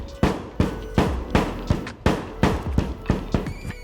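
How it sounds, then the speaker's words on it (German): A hammer sinks a metal anchor into a drywall wall with about ten sharp, evenly spaced blows, close and loud. "Da müssen wir mit einem Hammer diesen versenken."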